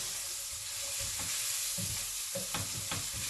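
Onions coated with paprika sizzle in a pan for shakshuka, a dense steady frying hiss broken by a few scraping stirs, close and fairly soft, with no voices.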